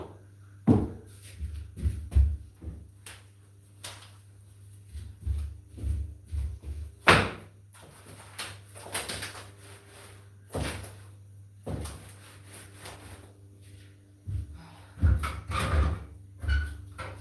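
Doors close one after another with dull thuds and sharper slams, some near and loud, others softer, scattered irregularly with pauses between them.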